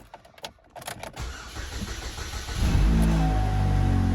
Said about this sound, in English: let's just go ahead and put our key in and start her up